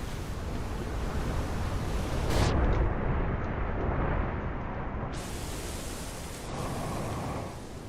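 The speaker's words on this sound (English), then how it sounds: "Here comes the ocean." Ocean waves in Outer Wilds: Echoes of the Eye, a broad steady roar of surf washing continuously, swelling slightly in the middle and holding at a loud, even level without voices.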